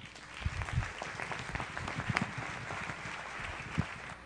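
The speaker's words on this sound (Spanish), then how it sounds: "Les pido que le demos un gran aplauso de bienvenida a nuestro expositor de hoy" An audience at a science talk gives a warm welcoming round of applause, a sustained patter of many hands at moderate level with a few louder claps standing out.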